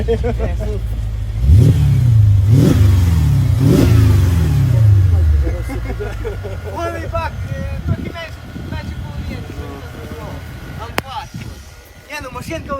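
A Lada Zhiguli car engine cranks, catches and revs several times, loud and near, then settles to an idle while people talk over it.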